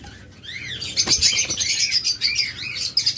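Birds chirping and twittering for a few seconds, close and fairly loud and busy, near a large white dove and a large grey dove sitting on eggs in a pigeon keeper's enclosure.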